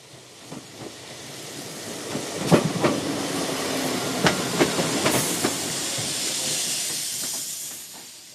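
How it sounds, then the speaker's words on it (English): A passing train rumbles with a steady hiss and a rhythmic clickety-clack of wheels over rail joints, sustained and moderately loud throughout with occasional sharper knocks. "Sonke took a train to school on Monday like she always did"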